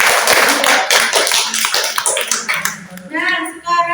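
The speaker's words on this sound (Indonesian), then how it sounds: "beri tepuk tangan untuk kelompoknya" A classroom of students claps for a group's presentation, a brisk burst of many hands that tapers off toward the end, with voices mixed in.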